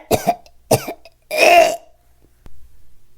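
A person imitates violent coughing, as if hacking up a cat's hairball: two short, sharp coughs close by, then a longer rasping, retching expulsion, followed by a faint thud and quiet shuffling.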